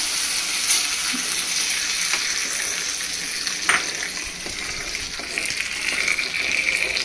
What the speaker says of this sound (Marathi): लगेच आपल्याला हा तडका कढीवर सोडायचा आहे